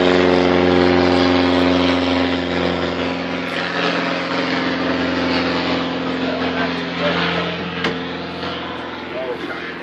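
A propeller airplane drones overhead at an RV show, outdoors near a 2008 Genesis 912 trailer. Its loud, steady harmonic engine hum fades slightly over about ten seconds.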